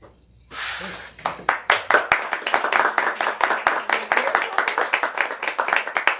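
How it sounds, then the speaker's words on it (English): Audience applause at a live anthology reading starts after a brief quiet moment and builds into steady, dense clapping from many hands that continues to the end. "one more round of applause for our fabulous audience."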